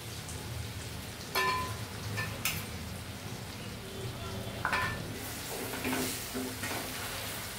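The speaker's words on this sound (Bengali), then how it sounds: "আম ভাজা হয়ে গেছে ছাকা তেলে" Raw mango pickle in a pan of oil, with spices stirred through it, giving a continuous crackling sizzle and occasional scraping clinks of the spoon against the pan, with no talking.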